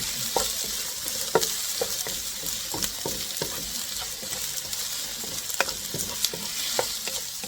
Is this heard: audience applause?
no